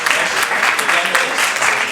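A short burst of applause from an audience at an economists' association lecture, clapping dense and fairly close, with faint voices mixed into the din.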